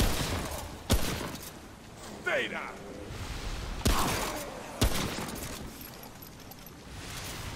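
Gunfire in the video game Remnant: From the Ashes: four sharp, loud shots spaced a second or two apart, over game ambience, with a player talking between them.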